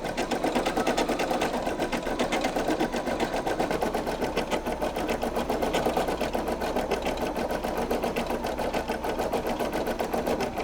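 Brother PE800 embroidery machine sews a satin stitch on a bear appliqué, a loud, close, rapid and evenly pulsing mechanical chatter that runs without a break, with no talking.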